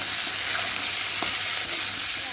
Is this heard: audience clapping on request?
no